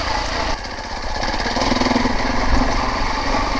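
Motorbike engines labour steadily up the steep Mongatapu Track between Pelorus and Matai Valley, a continuous loud mid-pitched drone that rises slightly toward the end with no talk over it.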